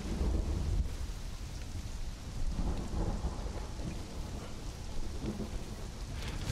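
Thunderstorm in the video game Conan Exiles: steady heavy rain with low rolling thunder rumbling continuously throughout, a dense, loud wash of sound with no voices.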